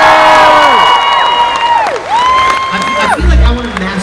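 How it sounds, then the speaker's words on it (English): Concert crowd at a live rock show cheering and whooping for themselves at the O2 ABC Glasgow, loud and dense, with high shouts rising and falling and a short burst of low thumps near the end. "Now you clap for yourselves."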